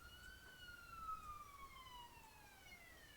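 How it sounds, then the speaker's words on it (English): A distant ambulance siren wails in a long, slowly falling tone over quiet road noise, steady and faint. "There goes the siren."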